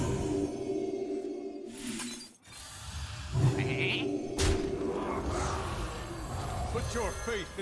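Cartoonish sheep bleats from the card game Hearthstone, several short wavering calls sounding over busy game music, effects and clinks, with a voice talking at times.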